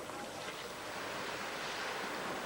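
Surf washing onto a sandy beach at Sidari, a steady broadband wash of waves with some wind noise, fairly close and continuous, with no voices.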